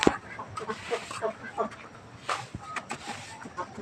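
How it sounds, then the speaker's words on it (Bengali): A flock of ducks at a duck farm quack and cluck in short scattered bursts, fairly close, while a person talks over them. "এই যে কত হাঁস।"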